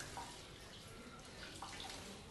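Running water soaking a cleaning rag in a kitchen, a quiet steady hiss and trickle with a few faint splashes throughout.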